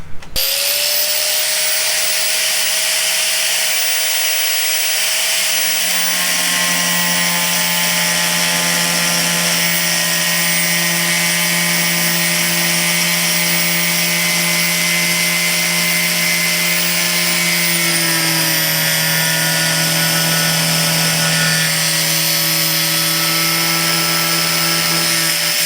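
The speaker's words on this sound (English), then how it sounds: "with the diamond blade and the jigsaw. Let's get this cut out." A jigsaw fitted with a diamond blade cuts through ceramic subway tile for a shower, giving a loud, steady, high-pitched whine that holds for the whole stretch and shifts in pitch partway through, with no talking.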